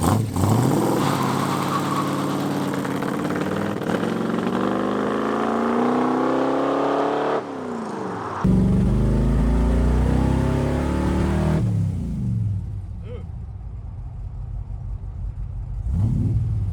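A 1968 Dodge Coronet hot rod with big tall tires and highway gearing runs rough with an unhappy carburetor, a loud, uneven engine drone that rises and shifts, cuts sharply, then settles into a quieter rumble.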